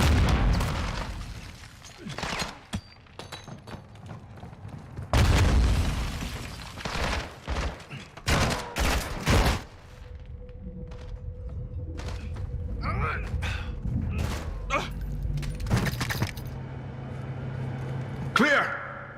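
Gunfire and heavy explosions in the Modern Warfare II video game break out as loud sharp bursts and booming blasts in clusters, with a rumbling background and shouted voices in between.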